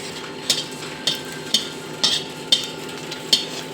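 Two dried red chillies fry quietly in a little oil in a wok, giving a soft, even sizzle. A crisp scrape or tap of stirring lands about every half second, with no talking.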